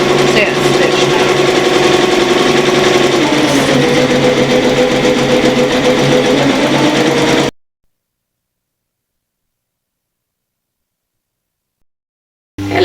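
Embroidery machine stitching a satin stitch on a baby keepsake applique, a loud steady mechanical whir running continuously for about seven seconds, then cutting off into silence before a brief return at the end.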